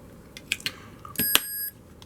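A Tamagotchi Connection v3 toy under repair gives short electronic beeps, several quick chirps followed by a longer steady tone, close and clear against a quiet room.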